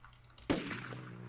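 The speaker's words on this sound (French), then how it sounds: "y'a un coup de feu." A single loud gunshot from the zombie survival video game Project Zomboid, a sudden sharp blast with a short decaying tail over quiet game ambience.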